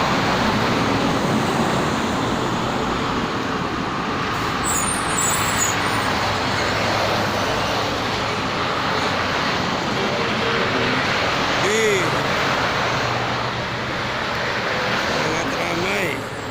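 Steady dense roar of many cars and buses at a rest area on the Jakarta–Cikampek toll road, continuous and fairly loud, with a faint voice talking over the traffic.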